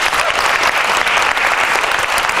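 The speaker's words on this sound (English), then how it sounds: "let's give a round of applause to Dr." Dense, steady applause from an audience after a guest talk on recruitment and retention, loud and continuous throughout with no break.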